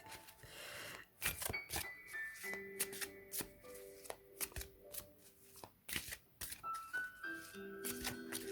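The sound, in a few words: shuffling a deck of cards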